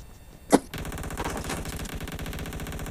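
Automatic gunfire in PUBG Mobile team deathmatch: a single sharp shot, then a rapid, sustained machine-gun burst rattling steadily for over two seconds, loud and close with no talk over it.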